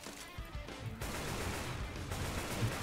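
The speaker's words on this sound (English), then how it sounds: "I still shoot Nick." Continuous dense gunfire from the video game Left 4 Dead 2, a rapid rattling barrage of shots running throughout at steady loudness, with no one speaking.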